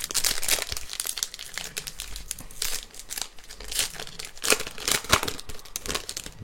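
A Dragon Ball Super card booster pack wrapper is torn open and handled, giving close, irregular bursts of crinkling and ripping plastic foil over a few seconds, with no talking.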